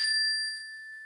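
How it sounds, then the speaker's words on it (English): A single bell strike rings out clearly, its bright tone sustaining and slowly fading over about a second, with nothing else heard. "So I'm going to ring the bell."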